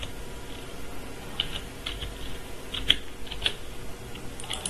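A password is typed on a computer keyboard at a sign-in page: a handful of light, scattered key clicks over quiet room hiss, with no one speaking.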